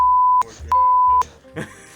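Censorship bleep tone, two loud steady electronic beeps in quick succession, each under half a second, followed by a short murmur of voice.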